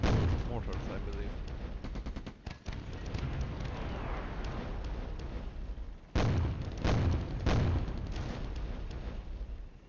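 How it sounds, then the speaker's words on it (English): Enemy mortar fire in the wargame Flashpoint Campaigns: Southern Storm, a string of sharp booms and crackling bursts with a couple of heavy impacts, loud and close, followed by a brief gap and more explosions. "Here we have enemy artillery. Those are mortars, I believe."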